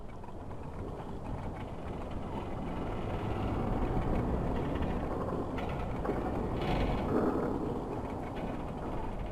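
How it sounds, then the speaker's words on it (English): Deep metallic groaning and creaking from the sinking Britannic's hull in a video game, reverberating from bow to stern, rumbling continuously and swelling louder midway, with no voices. "That would be the reverberations through the ship from the forward part to the aft"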